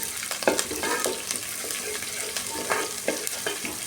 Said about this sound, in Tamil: கருவேப்பிலை போட்டு வதக்கிக்கலாம்.